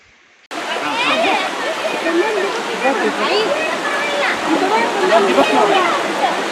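Shalmala river water rushing steadily over rocks at Sahasralinga near Sirsi, a loud continuous broadband roar that starts abruptly and holds without pause, with faint voices mixed in.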